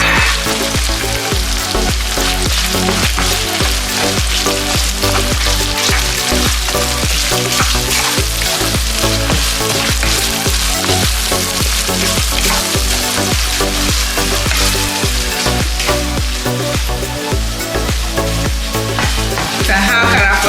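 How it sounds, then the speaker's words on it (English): Italian ragu sauce sizzles loudly and continuously in a pan for about twenty seconds, with regular thumping and scraping from constant stirring throughout, close and unbroken, with no speech. "Continue stirring it."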